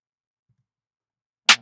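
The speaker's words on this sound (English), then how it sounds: "just a classic like drill / trap snare that sounds like this." Drill/trap snare drum sample pitched down two semitones, a single sharp, bitey crack striking once after silence and decaying quickly.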